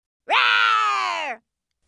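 A lion gives one sustained, tonal, groan-like roar in the 2001 children's PC game Play & Learn Let's Make Friends. It lasts about a second and sits alone against silence.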